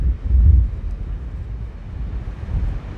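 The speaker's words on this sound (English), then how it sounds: "Very windy, so hopefully this microphone's picking it up." Strong wind buffets the microphone beside the Irish Sea in Blackpool, a low rumbling roar with heavy gusts early on that eases into a steadier blustery rush.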